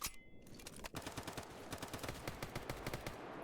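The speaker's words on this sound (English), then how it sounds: "let's go ahead and shoot them in the head" Rapid automatic gunfire in the shooter game S.T.A.L.K.E.R. GAMMA, a loud, steady stream of sharp shots after a brief lull, carrying on with no talking.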